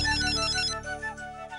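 A phone rings with a bright, repeating melodic ringtone in a Tamil TV serial scene, clear and steady on its own with no voices.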